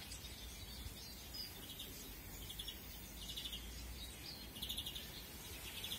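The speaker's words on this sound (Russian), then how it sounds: "теперь играются, летают зяблики" Small songbirds, chaffinches and goldfinches, chirp and twitter inside an outdoor aviary, with a steady backdrop of calls and brief clusters of higher tweets, moderately distant and fairly quiet.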